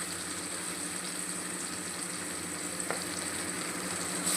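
Ginger garlic paste and onions frying in a pan give a steady, close sizzle with faint stirring, continuous and without talk.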